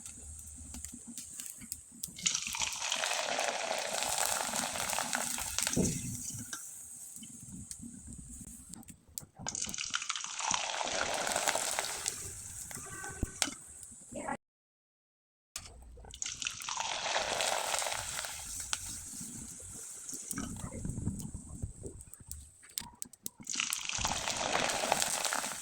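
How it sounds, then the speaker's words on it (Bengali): Sago papad sizzles as it fries in hot oil, a steady loud hiss rising and falling in long waves as each piece puffs, broken by a short silent gap. "আমি আপনাদের কয়েকটা পাঁপড় ভেজে দেখিয়ে দিচ্ছি।"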